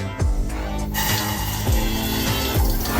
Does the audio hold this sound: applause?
no